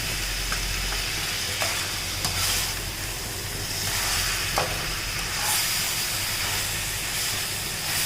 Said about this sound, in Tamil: கொஞ்ச நேரம் அப்படியே வதங்கட்டும். லைட்டாக லோ ஃப்ளேமில் லைட்டாக வேகட்டும்.